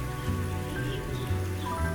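Steady rain pattering across open grassland, a dense, continuous wash of drops without a break for two seconds, close and fairly even in loudness.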